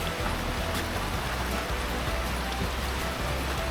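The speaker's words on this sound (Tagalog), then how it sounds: "Yan, lakas ng ulan." Steady, dense rain roars continuously with a low rumble underneath, constant and loud throughout.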